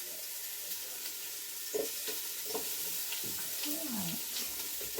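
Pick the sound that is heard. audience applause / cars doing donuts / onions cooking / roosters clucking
onions cooking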